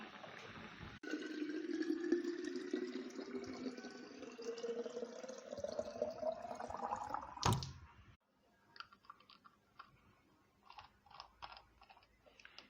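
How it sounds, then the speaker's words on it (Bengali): Tap water runs into a bottle as it fills, the pitch rising steadily over several seconds, followed by a sharp clunk and soft intermittent clicks and knocks, fairly faint. "এতগুলো জলের বোতল সব ভরলাম"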